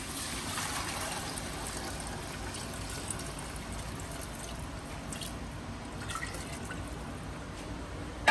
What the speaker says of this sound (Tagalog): Malagyan na natin ang ating water.